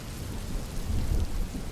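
Steady rainfall hisses evenly with a low rumbling undertone like distant thunder, a continuous wash of sound with no voices.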